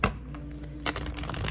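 A deck of tarot cards is shuffled by hand, giving a brief riffle, a short pause, then a longer run of dense, close papery flutter.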